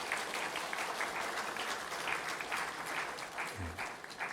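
A church congregation claps together to welcome a newly registered member, a continuous, fairly faint patter of many hands heard from within the room for several seconds.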